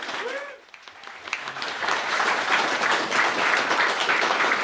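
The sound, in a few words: audience round of applause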